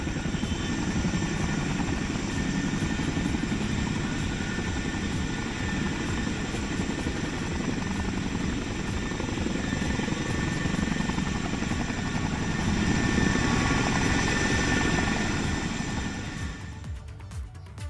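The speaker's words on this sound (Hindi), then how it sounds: "कैसे चिनूक हेलीकॉप्टर ने इस पैरा राफ्टिंग ट्रेनिंग में हिस्सा लिया" Chinook helicopter flying over a barrage lake during para rafting training, a steady, loud rotor thrum that holds for most of the stretch and fades toward the end, with no talk.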